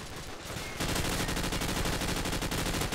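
Rapid automatic gunfire from Call of Duty 4 on the Backlot map, a dense continuous burst of loud shots with no talk over it.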